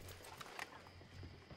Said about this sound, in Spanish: Un caballo pequeño.